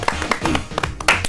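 Scattered clapping from a small audience at a Korean trot music broadcast event, a few sharp irregular claps over a low murmur of voices and background hum.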